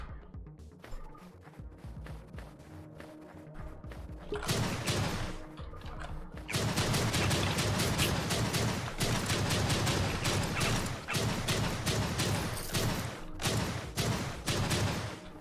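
Flare gun shots in the game Project Warlock, fired as a rapid, dense volley of loud mechanical bangs and clatters that grow thicker and louder after a quieter start, with no talking.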